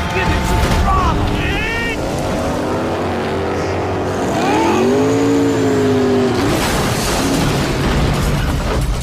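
A speedboat engine throttles up in Max Payne 3, a loud continuous roar with rising whining pitch sweeps as the motor revs toward a pier, with shouted voices and crashing effects around it.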